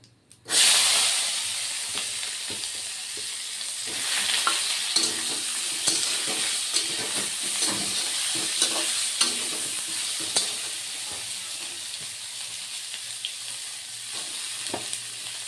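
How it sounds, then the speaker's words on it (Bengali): Drumstick stalks frying in hot oil with turmeric, starting with a sudden burst of sizzle and settling into a steady hiss punctuated by stirring clinks and scrapes. "ডাটাগুলি অল্প আগে ভেজে নেব"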